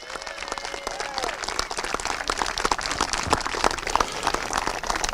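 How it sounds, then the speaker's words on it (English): A crowd claps steadily for a youth bantam football team at a Super Bowl event, dense sustained applause filling the whole stretch at moderate loudness with a few scattered voices mixed in. "Let's give USC a round of applause."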